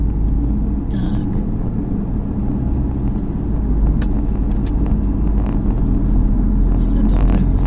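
A car drives along a road toward a tunnel, its steady low engine and tyre rumble continuous throughout, with faint clicks and rattles inside the cabin.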